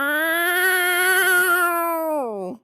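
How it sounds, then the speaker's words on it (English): An angry cat yowls in one long, loud, sustained wail that holds steady and then drops off abruptly at the end. "It was a cat that was pissed off and didn't want anybody around it."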